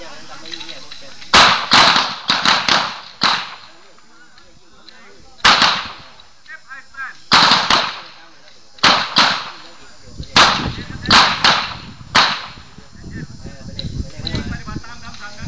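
A Glock 19 pistol fires at a shooting range: about a dozen loud, sharp shots in irregular clusters, with quieter voices talking in the gaps.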